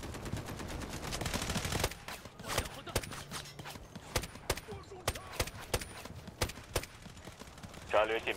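Gunfire in the mobile shooter Delta Force Mobile, with a rapid burst of automatic fire followed by irregular sharp shots and footsteps at moderate volume, while players talk over the game.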